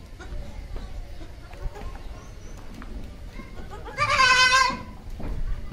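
A young Sojat goat kid lets out a loud, wavering bleat near the end, close and strident, following a stretch of quieter farm background sounds at a goat farm.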